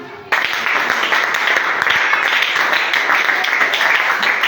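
A church congregation breaks into loud sustained applause and cheering, dense clapping that starts abruptly and continues steadily close to the microphone.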